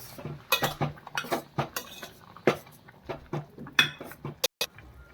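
Mustard powder is stirred into a simmering stew, and a metal spoon scrapes and clinks against the pot in quick irregular strokes, close and fairly quiet.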